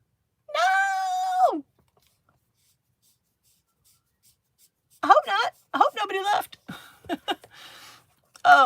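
A cat lets out one drawn-out meow that falls at the end, then after a quiet pause a burst of chattering voices and sounds follows nearby.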